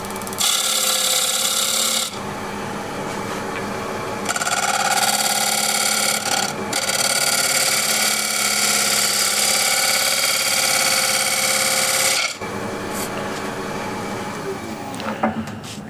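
A hand scraper working the rim of a wooden bowl on a lathe to remove a bead, giving a steady, close rasping scrape over the spinning wood, with brief pauses and changes in pressure throughout.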